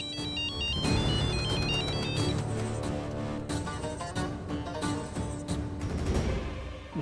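A phone ringtone plays loudly and continuously, a repeating electronic melody with steady background sounds and no speech.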